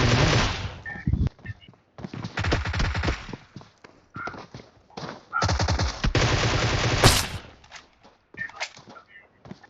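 Bursts of automatic gunfire in PUBG Mobile, loud rattling volleys broken by short gaps and scattered single cracks, with a few sharper pings in between.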